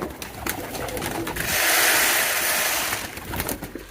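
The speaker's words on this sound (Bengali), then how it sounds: "এখানে এখন কবুতরগুলোকে খাবার দিয়ে ফেলি" Pigeons being fed, a flock cooing and fluttering nearby with a burst of wing flaps and rustling in the middle, soft calls scattered throughout.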